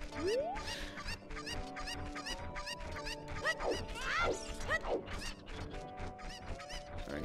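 Cuccos in Zelda: Ocarina of Time cluck and squawk repeatedly in quick, busy bursts alongside game sound effects and music tones, loud and close.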